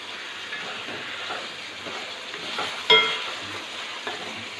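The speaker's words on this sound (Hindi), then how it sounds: "प्याज को बदस्तूर हल्की आंच पर फ्राई होने देंगे हम और चलाते जाएंगे इसको" Onions fry on a low flame for a potato and beef gosht, giving a steady soft sizzle with occasional stirring scrapes and one sharper clink near the middle.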